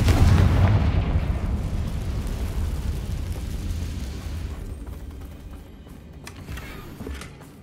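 A Confringo spell explodes in the video game Hogwarts Legacy, opening with a loud, heavy boom whose deep rumble slowly decays over several seconds. Fainter crackles and small debris sounds follow near the end.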